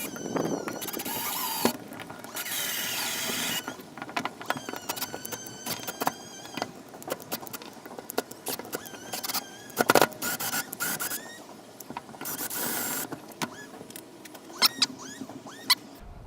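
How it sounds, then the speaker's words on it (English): A drill boring a hole through a simple 2x4 wooden board, heard in several whining bursts with squealing bit sounds and clattering pauses between them, fairly quiet and close, with no talking. "and I just need to drill that hole."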